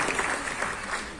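Loud, steady applause from an audience for a singer at a live concert, continuous dense clapping throughout with no pauses.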